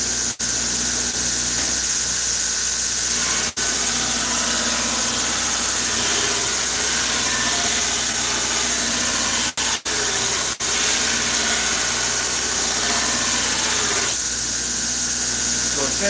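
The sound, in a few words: grinder grinding steel gladius sword blade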